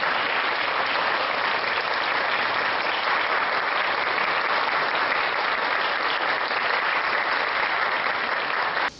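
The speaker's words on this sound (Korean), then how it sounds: "연주하는 모습은 모두가 진지해 뜨거운 박수 갈채를 받았습니다." Loud, steady applause from an audience after a music performance by children, dense clapping sustained evenly throughout before cutting off at the end.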